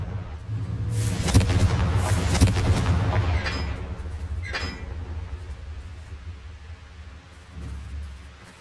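Fiery Confringo spell blasts in Hogwarts Legacy, a cluster of sharp, cracking explosions in quick succession followed by a couple of fainter hits, over a steady low game rumble.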